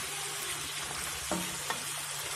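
Pork cheeks in an onion sauté sizzle steadily in a pot while being stirred, with a couple of soft scraping knocks from the spoon against the pan and no talking.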